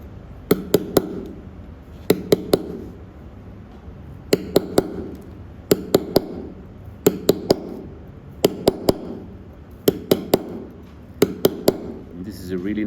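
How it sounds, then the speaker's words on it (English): A hammer strikes a chisel cutting letters into stone in regular bursts of three or four sharp metallic taps, the groups repeating every second or so, loud and close over a low background hum. "you go flat with your chisel"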